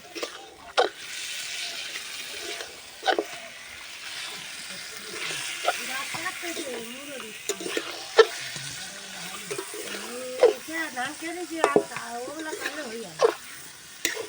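Meat curry with coriander leaves fries in a pan as it is stirred, a steady sizzle and hiss with occasional sharp knocks of the spoon, heard under ongoing talking.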